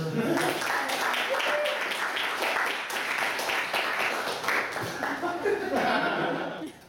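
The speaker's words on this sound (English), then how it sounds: "Give a warm round of applause for Jarrell Hayes." An audience at a poetry reading gives a warm, sustained round of applause for a poet, with dense clapping and scattered chuckles that fade out at the end.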